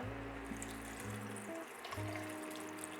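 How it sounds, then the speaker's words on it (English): Water is poured steadily into a pot of Ligurian minestrone with vegetables, a continuous close trickling fill that runs alone for a few seconds. "After that, we add enough water to cover."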